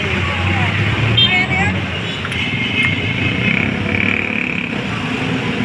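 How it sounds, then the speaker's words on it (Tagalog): Continuous roar of road traffic with passing cars and motorbikes, a steady loud wash of engine noise and some high whining tones. "yung mga tunog ng mga sasakyan"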